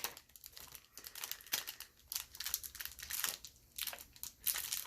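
Plastic trading card pack wrappers for Pokémon Vivid Voltage and Unbroken Bonds crinkle and crackle as they are handled and opened, close and fairly quiet, in irregular bursts of rustling that keep going throughout.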